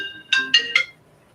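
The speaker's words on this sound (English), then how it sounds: "Stupid phone call from Peru." A phone ringtone from an incoming spam call, three short bright chimes in quick succession, close and clear, with no voices over them.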